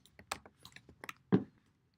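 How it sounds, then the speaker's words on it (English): Several quick keystrokes on a computer keyboard while writing web page code, close and crisp, an irregular burst of clicks ending in a louder final tap, with silence after. "I'm going to just come in here and I'm typing header"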